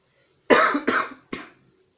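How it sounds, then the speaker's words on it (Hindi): A man coughs while teaching an online class, three harsh, close coughs in quick succession, the last one shorter and weaker, followed by silence. "खांसी बहुत ज़्यादा हो गई है"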